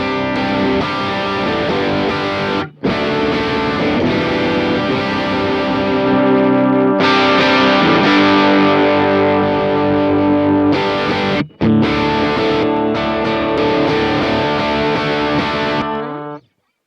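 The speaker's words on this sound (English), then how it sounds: "So now the gain's back up, and I'll turn on the overdrive again." A distorted electric guitar played through an overdrive pedal at a high gain setting plays sustained, crunchy overdriven chords with a rich, saturated tone, pausing briefly twice before ringing out again. No talking.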